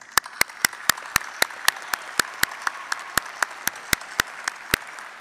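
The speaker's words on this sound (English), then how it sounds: "A round of applause" A round of applause fills the hall at an Iowa State University spring undergraduate commencement, with sharp, evenly spaced claps cutting through a steady wash of crowd clapping throughout.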